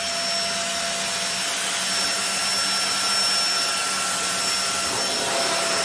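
Riccar Steward stick vacuum runs continuously and loudly at close range with a steady high whine while it picks up spilled corn grits from an office carpet mat.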